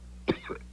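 A single sharp cough, close and abrupt, followed by a short rough throaty sound.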